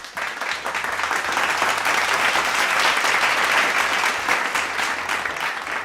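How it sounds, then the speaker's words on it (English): A crowd claps for Justice Chacha Mwita in a sustained round of applause, loud and steady for several seconds, then easing slightly at the end. "let's just give Justice Chacha Mwita a round of applause"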